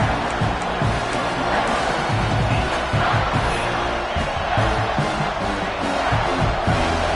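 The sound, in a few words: stadium crowd noise in NCAA football video game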